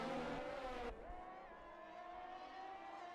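A Haas Formula 1 car engine in an F1 video game at the Monaco Grand Prix screams at high revs, shifts abruptly down in pitch, then holds a steady whining drone.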